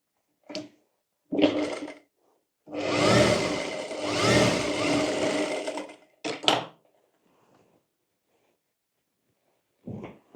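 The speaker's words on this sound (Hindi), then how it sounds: "यहाँ पर हम सिलाई कर लेंगे इस तरह से" A sewing machine stitches dhoti fabric in short bursts: two quick runs, then a sustained whir lasting about three seconds, followed by a few brief stops and starts, close and fairly loud with quiet gaps between.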